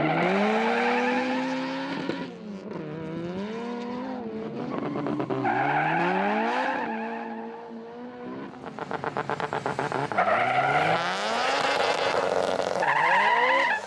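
A front-wheel-drive Honda Civic with a turbocharged B18 VTEC engine, a Garrett GTX3076 turbo and 400 wheel horsepower runs hard down the Cootamundra airstrip. The engine screams loudly and continuously, its pitch climbing through repeated gear changes, with a rapid fluttering crackle partway through the run.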